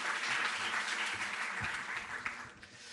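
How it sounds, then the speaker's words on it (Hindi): Audience applause at a Delhi government sports honours event for an Olympian, broad steady clapping filling the room for about three seconds, loud and continuous with no voice over it. "जोरदार तालियों से आप उनका अभिनंदन।"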